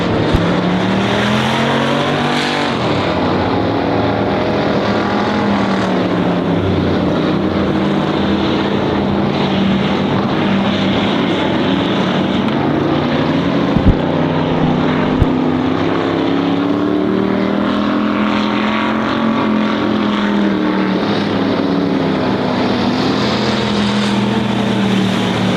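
Race cars lap the oval at Honor Speedway during an 8-lap heat race, a loud continuous roar of several engines with rising and falling pitch as they pass, sustained throughout without talking.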